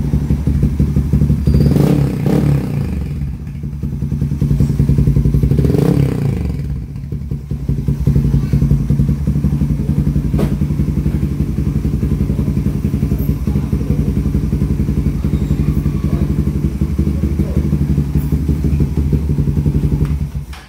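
Raider 150 FI motorcycle with a high-mount shorty power pipe exhaust revving loudly and close by, with two sharp throttle blips early and then a steady rumbling idle.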